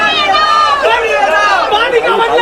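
Loud crowd clamor outside a police station, with many voices shouting and chattering over one another in a dense, continuous babble.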